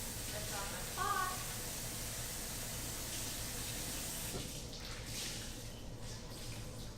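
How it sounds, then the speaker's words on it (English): Tap water runs steadily into a kitchen sink as a coffee pot is rinsed, a constant broadband hiss that thins out partway through, with a brief clink near the start. "At this point, I'm going to rinse off my pot."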